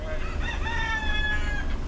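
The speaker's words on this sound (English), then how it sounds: "that's the sound of a rooster" A rooster across the street crows at daybreak in Portland, one drawn-out call heard from a short distance over a low steady rumble of a moving car.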